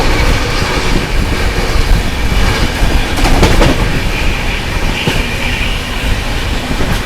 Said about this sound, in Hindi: क्या ओवरटेक किया है भाई शिवगंगा ने मरुधर एक्सप्रेस को